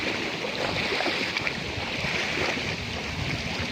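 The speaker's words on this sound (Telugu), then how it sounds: "చూడండి ఎంత ప్రశాంతమైన సముద్రం." Calm sea near Karwar, by the Kali river and its bridge: a steady, unbroken wash of soft surf and wind noise, loud and close throughout with no voices.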